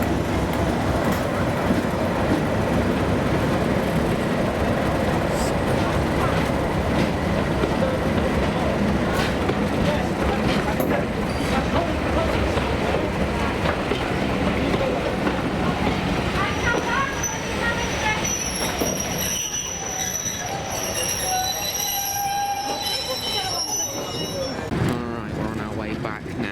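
A heritage railway train hauled by a Class 37 diesel locomotive, heard from aboard as a steady, loud rumble and rolling rail noise throughout, with faint squeals and clicks emerging near the end.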